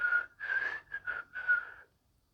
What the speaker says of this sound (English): whistling tunelessly.